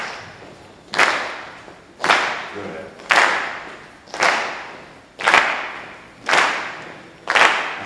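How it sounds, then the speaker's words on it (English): A classroom group claps in unison at a steady beat, about one sharp, loud clap per second, with a soft shuffle of foot tapping between claps; a voice briefly speaks once. "So now I want you to clap on the side that you're tapping."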